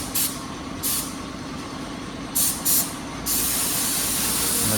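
A spray gun hisses in short bursts over a lorry being repainted from white to black, four brief blasts followed by a long steady spray, loud and close.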